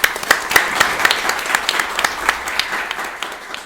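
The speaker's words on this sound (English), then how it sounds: "Round of applause for Seek and Hit." An audience at an evening startup meetup applauds with dense, steady clapping from many hands, close and fairly loud, and a few individual claps stand out sharply.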